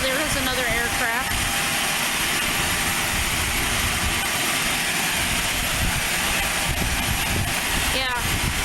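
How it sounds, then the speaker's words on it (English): Propeller aircraft at Aurora Municipal Airport, a continuous loud engine drone filling the whole stretch, with faint wind and distant background sounds. "There is another aircraft."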